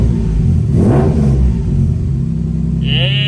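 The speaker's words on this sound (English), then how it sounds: "Let's rev her up." A third-generation Mitsubishi Eclipse's engine revs hard once near the microphone, rising to a loud roar and dropping back to a rumbling idle, with a voice cutting in near the end.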